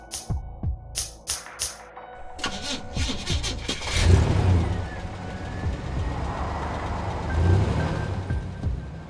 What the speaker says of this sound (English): The engine coughed, then roared to life.